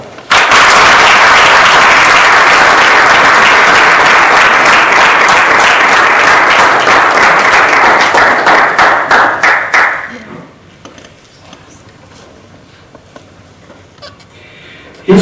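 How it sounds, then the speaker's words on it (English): Loud, close applause from an audience greeting the first contestant in a Toastmasters speech contest, sustained for about ten seconds with rhythmic clapping emerging, then dying away into room quiet. "please welcome, by one applause, the first contestant, Toastmaster Mr. Salah Al-Salman."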